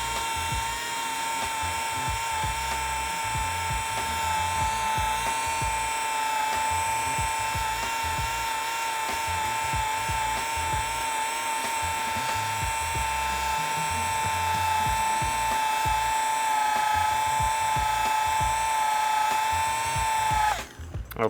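A rotary mini polisher whines steadily while polishing car paint, a loud continuous high-pitched motor tone that holds constant for about twenty seconds before cutting off abruptly at the end.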